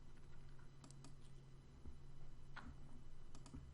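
Soft, irregular key clicks from typing on a computer keyboard, quiet and close, with scattered taps spread across a few seconds over faint background hum.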